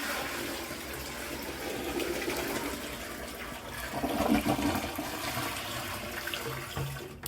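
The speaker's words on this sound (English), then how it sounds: "Just once it gets full, it'll flush itself" A toilet flushes by itself once its tank fills, a rushing gurgle of water that swells midway and then trails off into draining and refilling sounds, heard close with no talk.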